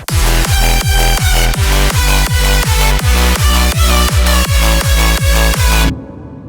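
A loud, pounding UK hardcore electronic bass line hammers in a fast, regular pattern with dense synth layers, cutting off sharply near the end.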